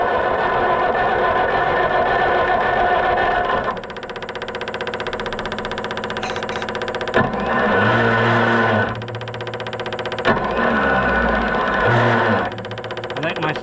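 The FIAT 415 petrol engine of an Oliver 1250 tractor firing and running roughly nearby, a rapid, uneven mechanical clatter that surges and drops in bursts, with voices talking over it.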